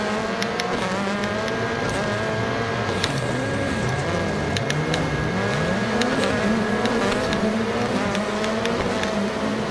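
Car engines roar loudly and continuously in a racing video game, with several engines droning and shifting pitch as they rev and pass, dense and close with no pauses.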